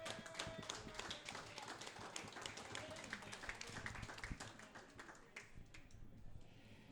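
A small studio group claps for podcast guest Brodie Zappia on the 200th episode of the Torque n Power Podcast, a close, steady patter of hand claps lasting several seconds before it thins out, with faint voices mixed in.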